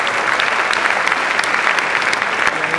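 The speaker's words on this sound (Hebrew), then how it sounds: "מגיעות לו מחיאות כפיים" Dense applause from an audience greets the culture department manager at a tribute concert, a steady, close wash of clapping hands holding at even loudness throughout.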